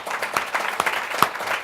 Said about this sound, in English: And again, big applause for all of you.